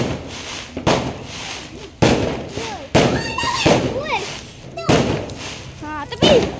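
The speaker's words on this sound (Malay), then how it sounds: "Okey, tu, tengok tu. Bunga api tu." Firecrackers and fireworks go off on Hari Raya eve, a series of sharp bangs and thuds with whistling, crackling bursts in between. Close and loud, with people talking and shouting throughout.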